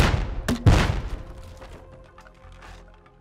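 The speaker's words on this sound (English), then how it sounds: "I equip the grenade launcher." A single heavy thump of a grenade launcher firing in a video game, loud and sharp near the start, followed by a fading tail and faint background sounds.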